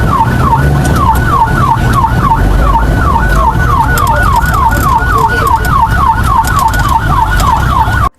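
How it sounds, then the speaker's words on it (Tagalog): A rescue vehicle's loud wailing emergency siren cycles rapidly up and down without pause, close by, over a steady rumble of road traffic and engine noise. "Kaya ginamit na ang wangwang."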